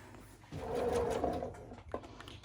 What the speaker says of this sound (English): And I sew just for an inch or so with a straight stitch.